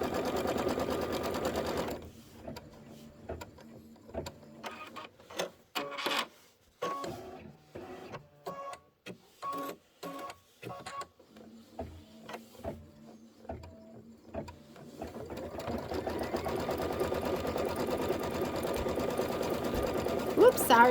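A sewing machine stitches the outer borders of a quilted table topper, its motor whirring in repeated short bursts and pauses before running steadily near the end, with a voice talking at times.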